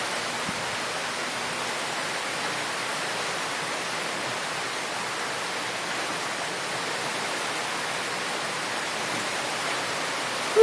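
A heavy rainstorm with high winds produces a dense, unbroken hiss of pouring rain that stays loud and steady throughout, with no voices.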